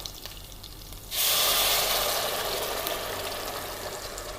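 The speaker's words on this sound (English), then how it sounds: "In goes the tomato puree now." Tomato puree hits a hot pan of oil with mustard seeds and curry leaves, a quiet sizzle giving way to a sudden loud, broad hiss that holds steady and slowly eases.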